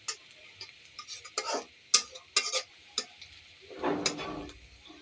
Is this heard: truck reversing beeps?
no